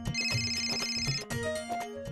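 A mobile phone rings with a bright, repeating electronic melody, clear and close, in a short indoor burst.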